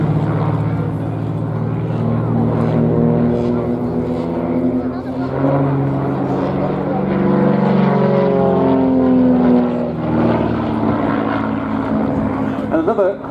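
An aerobatic display aircraft flying and pulling up into a loop, its propeller drone rising and falling in pitch under continuous commentary, moderately loud and distant.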